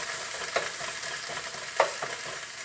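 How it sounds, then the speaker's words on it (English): Tofu frying in a pan, sizzling steadily while a utensil stirs and chops it into crumbles, with two distinct scraping knocks against the pan over the hiss. "So give it a stir, and of course when you stir it you want to give it a chop."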